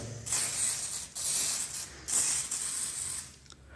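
A spray can being shaken hard before spraying over a tattoo, its rattle coming in three loud, close bursts separated by short pauses.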